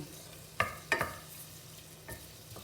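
Garlic frying in a pan for a creamy mushroom sauce, with two sharp scraping stirs early on and a softer one near the end over a faint, steady sizzle; no voices.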